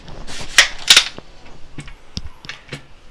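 AR-15 buttstock being fitted onto a rifle, giving a few sharp plastic-and-metal clicks and snaps in close, clear succession with light handling noise between, no talk.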